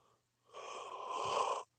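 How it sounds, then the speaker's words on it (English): A man's drawn-out yawn, a single breathy exhale swelling for about a second before cutting off, close and alone with no talk over it. "I don't mean to yawn at you guys"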